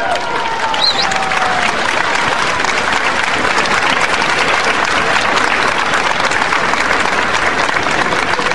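A large crowd at a Chilean September 11 ceremony applauds the first lady: loud, continuous clapping with a faint cheer early on, dense and unbroken from start to finish.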